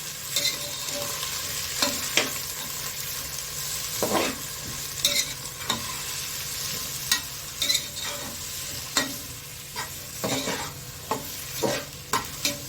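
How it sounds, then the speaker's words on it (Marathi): Sweet potato and mixed vegetables stir-frying in a pan for undhiyu, a steady sizzle broken by repeated scraping and tossing strokes of a spatula, with no talking. "या सगळ्या भाज्या आपण याच्यामध्ये व्यवस्थित परतवून घेणार आहोत"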